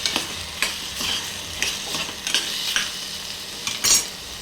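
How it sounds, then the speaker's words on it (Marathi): Potato, onion and tomato pieces stirred in hot oil in a frying pan: bright crackling sizzle with repeated rhythmic scrapes of a spatula, close and fairly loud, no voices. "आता ह्यात मी थोडासा बटाटा, कांदा आणि टोमॅटोचे काही तुकडे टाकणार आहे। एकदा हलवून घेते"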